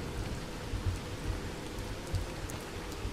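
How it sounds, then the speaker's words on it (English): Rain in the Roblox game Vehicle Simulator: a steady, dense hiss of falling rain with a soft low rumble, continuous and even throughout with no voices. "It's raining. I like the rain."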